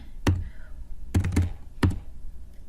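Keys on a computer keyboard tapped in a few sparse, separate strokes, close and fairly crisp, with a short double tap in the middle and quiet pauses between.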